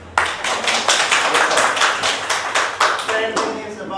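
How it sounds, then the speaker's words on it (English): Audience at a parenting session claps in a crisp, fairly even burst of hand claps lasting several seconds, close and moderately loud, with no voices over it. "Good. Clap for her."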